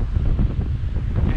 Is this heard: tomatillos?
no